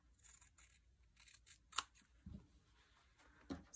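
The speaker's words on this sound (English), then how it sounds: "I'm going to take my scissors, and I'm going to cut on my pencil line." Scissors snip through sewn fabric along a pencil line, giving a few quiet, close crisp cuts and rustles spaced unevenly across a near-silent room.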